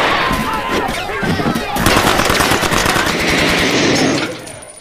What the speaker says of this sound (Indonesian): dia langsung menembaki polisi dengan brutal. Dan seorang polisi terkena tembakan.